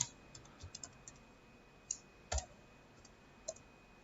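Scattered keystrokes click on a computer keyboard while code is entered, a few sharp isolated taps spread unevenly over several seconds, faint and close in a quiet room.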